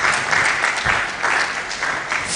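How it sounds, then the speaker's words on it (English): An audience at a Federal University Otuoke event in Bayelsa State claps to welcome a presenter, a dense, even patter of applause from a crowd, fairly close and steady throughout. "Please, let's make welcome with a round of applause."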